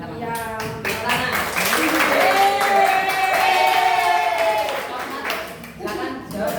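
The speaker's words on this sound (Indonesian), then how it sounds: "Tepuk tangan." Students in a classroom clap in a short round of applause, close and moderately loud, mixed with voices talking and calling out over the clapping.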